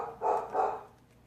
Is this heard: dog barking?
yes